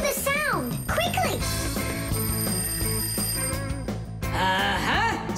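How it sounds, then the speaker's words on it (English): An alarm rings in an animated cartoon, a bright steady ringing running through the whole stretch under children's voices and music. "Simka, I think I can hear my alarm ringing."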